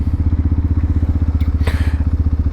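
Honda CB125R motorcycle fitted with a Black Widow exhaust idling loudly and close just after starting, a steady rapid pulsing thump with faint clatter on top and no speech.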